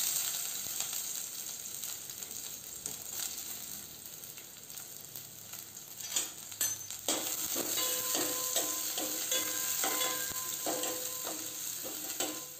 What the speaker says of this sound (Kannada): ಒಂದು ನೀರುಳ್ಳಿಯನ್ನು ಕಟ್ ಮಾಡಿ ಹಾಕ್ತೇನೆ.